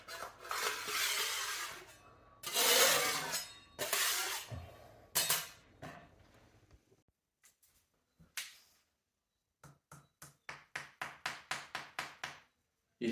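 Knocks on a hollow plaster wall laid over stone in an old house in Sicily, first scraping and tapping bursts, then a quick row of sharp, close, evenly spaced raps with silence between them.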